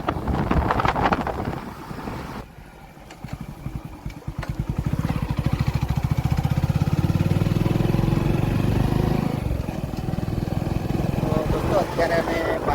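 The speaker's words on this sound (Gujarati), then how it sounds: "અમે બાઇક લઈને જઈએ છીએ." A motorcycle ridden by two people heading to a Chandla ceremony, its engine droning steadily beneath heavy wind buffeting on the microphone, with a quieter dip partway through before the rumble swells again.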